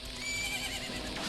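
A horse whinnies in The Legend of Zelda: Majora's Mask, a bright drawn-out neigh over steady game ambience with clip-clop hoofbeats, loud and close, with no one speaking.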